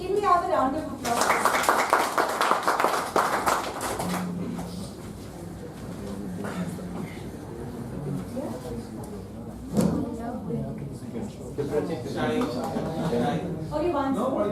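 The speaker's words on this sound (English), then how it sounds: "So, can we have a round of applause?" Audience clapping fills a room during an educational session, a loud dense burst of applause that soon fades beneath continued talking and room noise.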